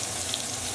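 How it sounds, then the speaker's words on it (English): Prawns and crushed garlic fry in hot olive oil with an even, unbroken hiss at moderate loudness, heard close with nothing else over it. "once your oil's nice and hot, we'll add in our prawns"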